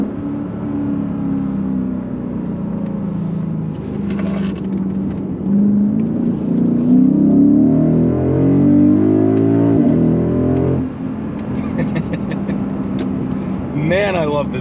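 A Lexus GS-F fitted with aftermarket coilovers accelerates hard through a quick turn, its engine note climbing and swelling over several seconds above steady road and tyre noise.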